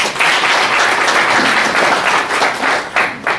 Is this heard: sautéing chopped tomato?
no